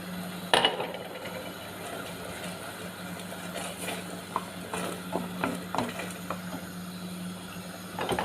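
Food frying in a pan for a meat tagine with tongue-shaped pasta and minced meat is stirred, with a steady sizzle and scattered scraping clinks of the utensil against the pan.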